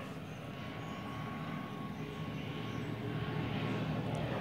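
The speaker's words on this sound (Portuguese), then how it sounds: "avião passando" An airplane passes overhead as a steady, broad low roar that slowly swells in loudness across the whole stretch, with no talking.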